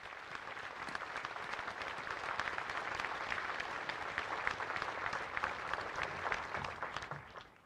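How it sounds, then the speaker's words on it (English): An audience claps steadily at a Pearl Harbor memorial ceremony, the even crowd applause lasting several seconds before tapering off at the end. "Let us offer them a round of applause for their eternal courage and sacrifice."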